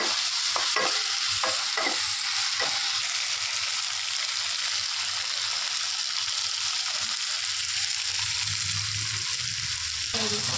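Fried soybean chunks and potato are stir-fried in masala in a pan, with a steady close sizzle running throughout and repeated scraping, stirring knocks, and no talking.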